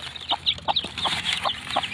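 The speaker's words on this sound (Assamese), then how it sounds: "কুকুৰা এজনী উমনি দিছিলোঁ।" A brooding hen clucks softly among newly hatched chicks, with repeated short clucks and high, faint chick peeps close by and continuing throughout.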